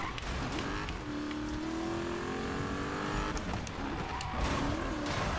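A car drifts in Need for Speed, its engine revving loud and continuous with tire squeal and skidding under a sustained whine.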